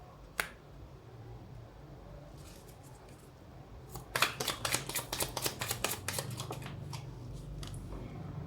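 Oracle cards are shuffled by hand, a flurry of quick crisp riffling flicks and slaps clustered together after a sharp single snap early on, close and fairly clear over a low background hum.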